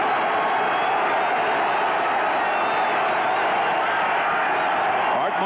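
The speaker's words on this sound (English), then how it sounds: "Boy, the crowd's really getting into it now" Football stadium crowd at an NFL game in Philadelphia, Redskins against Eagles in 1988, roaring steadily and densely throughout, a broad sustained wash of cheering with no breaks.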